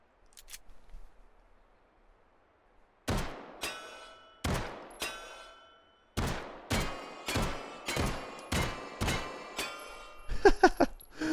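A Luger artillery pistol fires in a VR shooting game at a 100-meter range, ringing out about eight sharp shots after a quiet pause, spaced roughly a second apart, with a short metallic clatter at the end.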